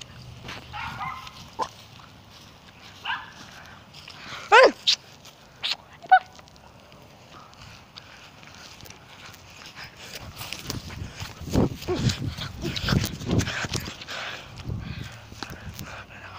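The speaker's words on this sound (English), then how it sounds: "Next door neighbor, dogs." Next-door dogs bark in a scattered series of sharp barks, some loud and some more distant, separated by pauses. Softer yapping and other noise build up later.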